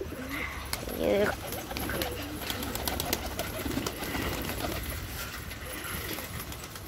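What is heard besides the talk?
pigeons cooing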